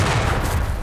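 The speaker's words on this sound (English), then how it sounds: "Hit by both the LEIG and the mortar." Dense, booming fire from a LEIG infantry gun and mortars in Company of Heroes 3, a short, loud rumbling barrage of overlapping impacts.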